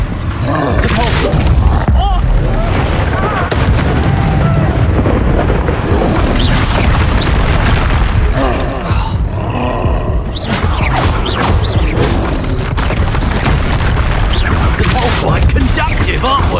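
A Depulsor spell bursts in Hogwarts Legacy amid a chaotic magical duel, loud booming blasts and rumbling roars layered over dense game effects, with a player's voice calling out spells.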